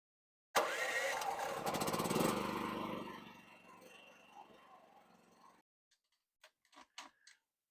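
A portable generator engine fires and runs loud and close with a rough, ticking beat, then fades off, leaving a few faint clicks and knocks. It is being hooked up to power a whole house.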